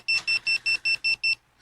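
Electronic alarm beeping in a fast, steady series of seven identical shrill tones, evenly spaced and fairly loud, then stopping abruptly over a low background hum.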